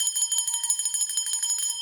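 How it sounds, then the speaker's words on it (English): A small hand bell rung steadily in a quiet room, a continuous bright metallic trill of rapid strikes, clear and close, with no talk. "I'm ringing the bell before the numbers disappear or change on the screen"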